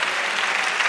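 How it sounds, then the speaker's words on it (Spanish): A church congregation claps in praise during a Spanish-language worship service, a brief burst of dense, steady applause from many hands. "Dale aplauso al Señor, sí."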